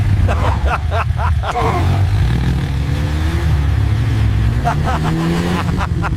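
A motorcycle engine runs loudly nearby with a constant low throb and slight revving, while people talk over it.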